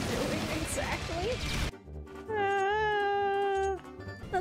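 A cat gives one long, drawn-out meow, clear and close, following a burst of noisy busy sound that cuts off abruptly.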